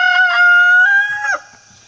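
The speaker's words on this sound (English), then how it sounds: "Some good looking chickens." A rooster crows loudly and close, one long harmonic call with a rising start and a sharp drop at the end, with faint clucking from the chickens behind it.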